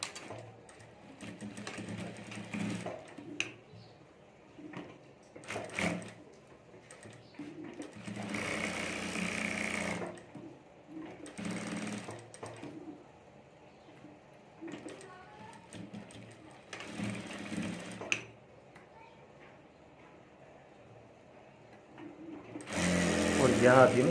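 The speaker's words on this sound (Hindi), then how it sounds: "और अब यहाँ से हमें जिप के ऊपर सिलाई कर देनी है।" A sewing machine stitches over the zip of a handmade bag in repeated bursts of rapid mechanical whirring, some short and some several seconds long, separated by pauses, closing with a loud run; a voice talks in the gaps.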